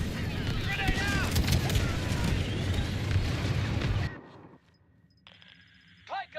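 A Star Wars Battlefront 2 grenade blast comes through as a heavy, rumbling boom among chaotic battle noise and shouting voices. It cuts off abruptly into near silence, and a few faint chirps follow.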